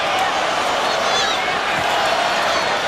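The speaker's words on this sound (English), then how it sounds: "Crowd setting up a chant for the Australians, screaming for some more." Stadium crowd at a 1997 Anzac rugby league test between the Kiwis and Kangaroos, roaring and chanting for the Australians as a steady, dense wall of noise with no clear beat.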